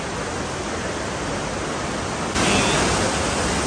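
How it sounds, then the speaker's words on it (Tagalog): A waterfall at the exit of an underground river in Jovellar, Albay roars as a dense, steady rush of water that grows louder partway through. "May falls dyan."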